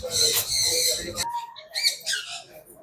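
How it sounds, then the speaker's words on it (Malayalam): An Amazon parrot at Trivandrum Zoo gives a loud, harsh, raspy call up close, followed by shorter whistling chirps and squawks that trail off. "ആമസോൺ തത്ത"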